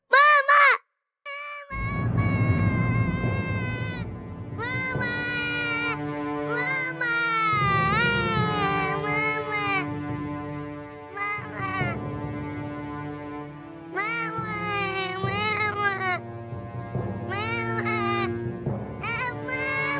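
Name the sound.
baby crying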